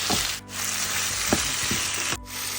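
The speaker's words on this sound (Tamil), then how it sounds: "உருளைக்கிழங்கு சேர்த்துட்டு நம்ம அழகாக இதை வதக்கணும்." Potatoes sauté with onions in a pan, a close, steady frying sizzle broken by a few scraping stirs and knocks of a spoon.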